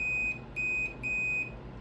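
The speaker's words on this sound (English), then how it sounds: "it's gonna beep" A multimeter set to continuity test emits three sharp high-pitched beeps, each lasting about a quarter to half a second, in a quiet setting while testing a circuit board's MOSFETs.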